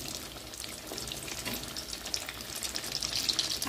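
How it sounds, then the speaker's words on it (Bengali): Chicken cutlets fry in shallow oil over medium heat, giving off a steady, close crackling sizzle that grows slightly louder toward the end, with no talking. "আমি কিন্তু খুব ডুবো তেলে ভাজছি না, একটা পলট ডুবে আছে"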